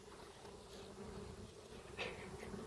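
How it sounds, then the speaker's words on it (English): Honey bees fly around the hive entrance on a spring day, a soft steady hum of many wings with one bee passing close. "the bees are eager to be out and working"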